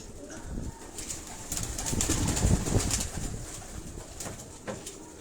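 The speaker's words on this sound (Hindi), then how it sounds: "ये भी छोटे बेबी पिजन्स हैं" Breeder pigeons and baby pigeons in rooftop cages in Karachi cooing nearby, soft low repeated coos rising and falling, with a few light flutters and chirps.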